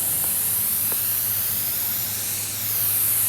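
A spray gun lays epoxy primer onto a 1974 Ford F250 cab panel with a loud, continuous, close hiss that barely wavers over a few seconds, with no voices.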